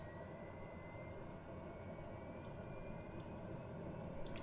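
An aircraft engine in Microsoft Flight Simulator spools up, giving a steady, even turbine drone with a faint rising whine, heard alone at low level.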